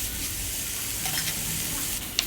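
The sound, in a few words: sautéing tomato and drumstick leaves in a pan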